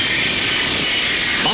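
An airplane flies overhead, producing a loud, steady engine roar that fills the brief moment without change.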